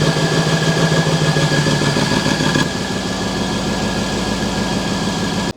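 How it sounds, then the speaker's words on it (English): A Mercedes E63s V8, a wrecked car, runs loud and steady close by, its deep idle rumble unbroken, dropping slightly in level about halfway through and holding there. "We fired up the car, everything's all working, engine's turning over, cranking"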